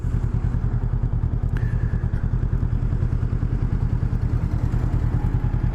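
A Honda Rebel 500 motorcycle ridden along Highway 34 at around highway speed, its engine a steady close drone with a fast, even pulsing rhythm throughout and no voices.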